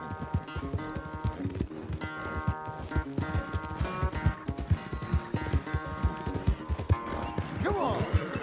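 Horse hooves galloping in Red Dead Redemption 2, a rapid, rhythmic clip-clop of hoofbeats running throughout at close range, with gear rattling, a brief snort near the end, and music or tones faintly underneath.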